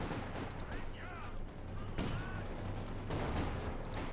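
Sustained gunfire crackles around a half-track in Company of Heroes 2, dense overlapping bursts and rattling shots in a loud battle din, with a voice talking underneath.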